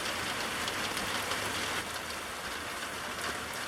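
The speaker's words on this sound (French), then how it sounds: "Forte pluie également." Heavy rain pours steadily during a very electric thunderstorm in Ardèche, a dense, loud hiss of drops with no clear thunder, filling the whole short stretch.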